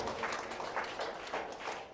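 Congregation at a church retreat clapping hands together in thanks, a steady, dense patter of many hands with faint rhythmic pulses, moderately loud and continuous throughout.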